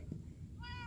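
A cat in Minecraft PE gives one short, fairly faint meow near the end, rising over quiet background game sound.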